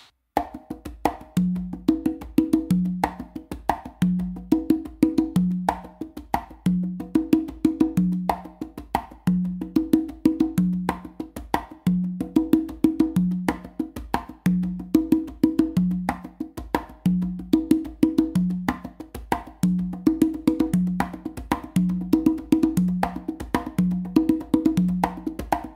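Congas playing the second variation of the A Caballo rhythm, a steady galloping pattern of open and slap tones repeating for the whole stretch, close and clear with no voices.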